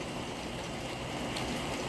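Steady rain falling outdoors, a dense, even hiss that stays constant throughout with no voices.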